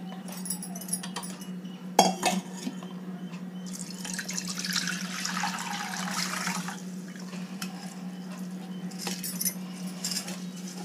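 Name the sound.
draining soaked basmati rice through a strainer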